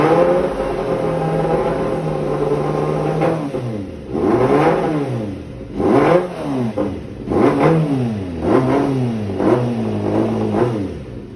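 A Kawasaki ZX-6R motorcycle engine with a misfiring fault idles, then is revved repeatedly in short uneven bursts, each rising and falling back with a rough, sputtering edge.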